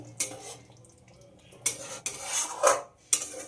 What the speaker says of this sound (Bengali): গরম মশলাটা খুব ভালো করে মিশিয়ে নিতে হবে